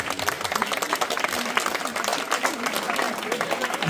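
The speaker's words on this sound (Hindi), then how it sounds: "उनके लिए एक बार जोरदार तालियां हो जाए" Enthusiastic applause from an audience at an academy event, honouring a performance by young children, a dense steady wash of clapping that stays loud and even throughout with no talk over it.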